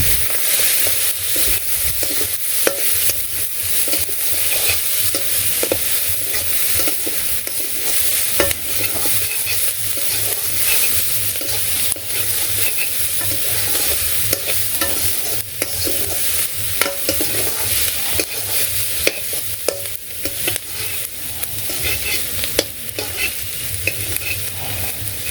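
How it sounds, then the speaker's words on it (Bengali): Onions frying together with fish in a pan crackle and sizzle steadily for the whole stretch, close and loud, with occasional stirring scrapes and no voices. "এই মাছের সাথে আমি পেঁয়াজগুলো একটু ভেজে নেব, একটু লাল লাল করে ভেজে মাছের সাথে উঠিয়ে রাখবো।"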